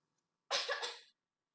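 One short, breathy cough from a comedian during a stand-up set, close and fairly soft, standing alone in otherwise near silence.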